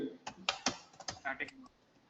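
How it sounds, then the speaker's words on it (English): Computer keyboard typing while entering code, a run of sharp irregular key clicks close by, with some voice murmuring faintly alongside. "For your sake, just I'm typing."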